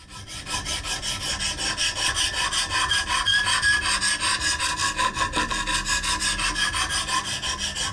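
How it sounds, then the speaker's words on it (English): A scouting knife blade is drawn steadily across a sharpening stone, producing continuous rhythmic rasping strokes, close and fairly loud, with no talk. "Sharpening the knife is the last step, the really last step that I do."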